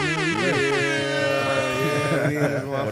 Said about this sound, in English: got the air horns going